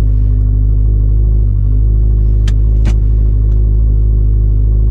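A Subaru STI tuned to 700 whp idles with a loud, steady, deep rumble close by, with a couple of faint clicks over the engine drone.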